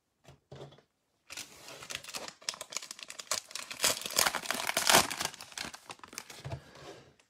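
Crinkling and tearing of a cellophane wrapper on a pack of 2020–2021 football trading cards, loud crackly rustling that builds steadily over several seconds after a couple of short opening crinkles.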